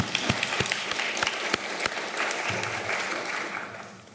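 Audience clapping at a research symposium, a dense steady wash of applause with a few sharper individual claps standing out near the start, gradually thinning toward the end.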